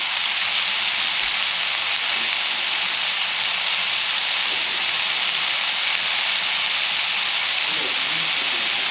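Peeled garlic cloves hit a hot pan and sizzle, a steady, bright hiss of frying oil that stays even and fairly loud throughout, with no talking over it.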